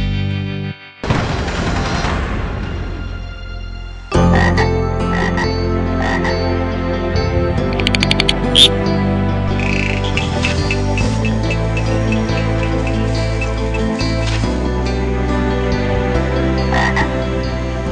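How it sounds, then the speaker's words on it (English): A newly discovered Bufo toad species croaks loudly in a series of close, rhythmic calls after a brief pause, the repeated pulses continuing steadily with no voices. "it is an entirely a new species of toad that's scientifically known as buffo"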